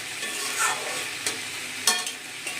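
Bitter gourd, potato and eggplant fry together in a pan, a steady close sizzle with a few light stirring scrapes.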